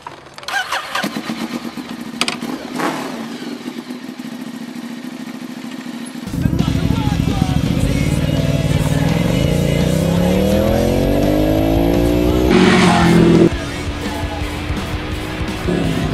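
A new motorcycle starts up and rides off onto back roads, the engine catching after a quiet stretch and revving through rising gear changes before settling into a steady drone, with voices talking early on.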